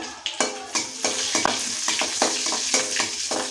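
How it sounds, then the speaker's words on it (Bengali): Whole garam masala spices, two bay leaves and two dried red chilies crackle in hot oil, stirred in quick repeated scraping strokes over a bright, continuous sizzle, with no voices. "ভালো করে এগুলো ভেজে নেবো যাতে সেন্ট বেরালে"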